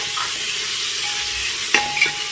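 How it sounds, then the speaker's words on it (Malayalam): Chopped tomato sautéing with ginger, garlic and green chili for pressure cooker chicken biryani, a steady hissing sizzle with a couple of brief utensil clinks, no voices. "ഒരു മീഡിയം സൈസ് തക്കാളി ചെറുതായിട്ട് അരിഞ്ഞതും കൂടെ ഇട്ട് കൊടുത്തിട്ട് ഒന്ന് നന്നായിട്ടൊന്ന് വഴറ്റിയെടുക്കാം"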